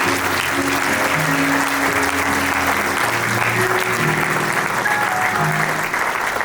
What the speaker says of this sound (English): How about another round of applause for the 2022